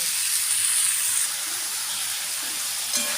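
Chicken fries in a pan with a loud, close, continuous hissing sizzle, broad and steamy, holding steady for a few seconds with no voices.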